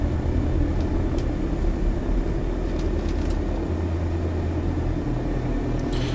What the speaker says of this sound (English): A very realistic aircraft to be taxiing around.